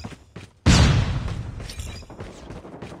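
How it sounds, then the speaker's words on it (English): A flashbang grenade goes off in Call of Duty with a single sudden loud bang and bright crackling burst, preceded by faint background game sounds and trailing into a fading ringing rumble. "Watch out, flashbang."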